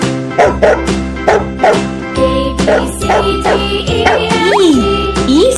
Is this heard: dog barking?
yes